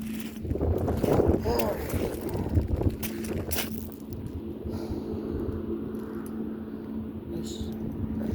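A small boat cruises slowly over water during an outdoor search trip, its low steady motor hum and wind noise running throughout, with some handling noises and movement near the start.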